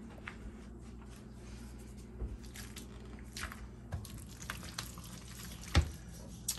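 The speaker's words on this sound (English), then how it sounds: "I'm not gonna do any more mashing. I'm just gonna do a little bit of mixing. A little stirring." Soft wet squishing and sticky clicks of mashed avocado guacamole being stirred and mixed in a bowl, quiet and close with small irregular smacks and one sharper knock near the end.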